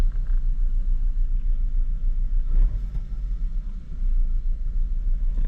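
A car's GDI engine idling during intake valve cleaning, a steady low rumble with a brief mid-clip surge, close and constant, no voices.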